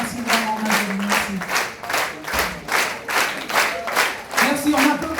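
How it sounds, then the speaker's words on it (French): Audience clapping for a choir director and her musicians, loud rhythmic claps in regular pulses over a humming crowd, with a few sustained vocal tones rising over the clapping. "on applaudit très très fort Madame Magali Ponzala et toute sa superbe équipe musicale"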